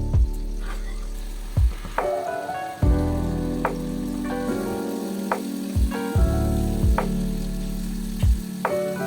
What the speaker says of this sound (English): Drop those little meatballs into hot oil and give them a nice sizzle till they brown up